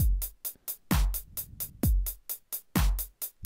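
A drum-machine beat built in FL Studio 10, with the DNC hi-hat sample swapped in: crisp, steady hi-hat ticks repeat rapidly over booming kicks that land about once a second, loud and alone with no voices.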